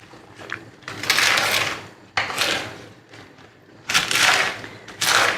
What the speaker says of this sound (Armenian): Մնաց մարոլը կտրատեմ։